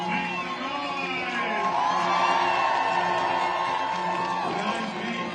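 Los Angeles anti-Trump protest crowd whooping and cheering continuously, with shouts and yells rising slightly in the middle and voices threaded through the din.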